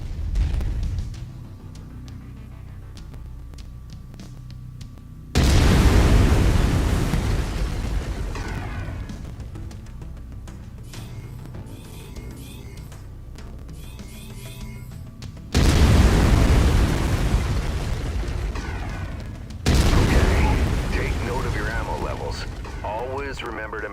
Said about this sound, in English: I've mapped the autocannon to Weapon Group 1. You're free to fire whenever you're ready.